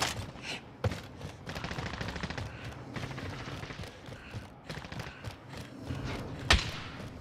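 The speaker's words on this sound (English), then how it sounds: "I don't even know what y'all shooting at." Gunfire in Call of Duty: Modern Warfare, repeated rapid shots and thuds over a dense, noisy battle mix with a couple of sharper loud cracks, mid-distance and continuous.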